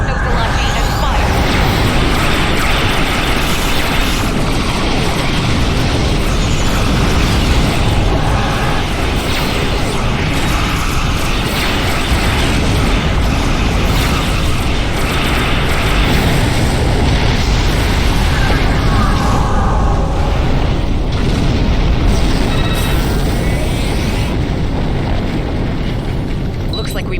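Spaceship weapons fire and explosions in the video game Star Trek Online, a continuous loud wash of booms, bursts and blasts with a voice shouting over the combat throughout.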